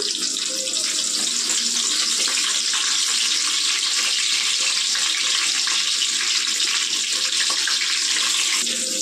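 Stuffed brinjals, whole eggplants filled with masala, sizzle and fry in oil in a pan for a curry, giving a steady, loud, continuous hiss with no speech over it.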